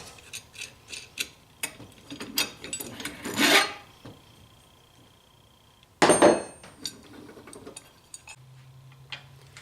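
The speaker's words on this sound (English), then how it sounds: "And remove the bolt." A bolt is worked loose from a single bike rack mount with a wrench, giving two short bursts of ratcheting and rasping metal close by, separated by quieter handling clicks.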